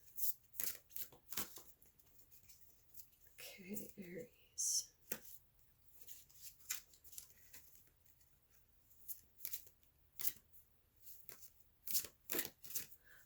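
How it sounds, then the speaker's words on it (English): Tarot cards are shuffled by hand in repeated quick riffling bursts and soft slaps, close and fairly quiet, with someone talking briefly between them. "I'm just trying to get these shuffled."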